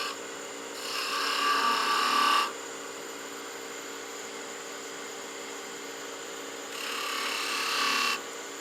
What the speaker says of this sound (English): Do some V cuts, give us space to create the bead that we want.